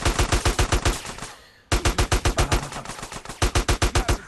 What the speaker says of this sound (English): I don't like that you're shooting me.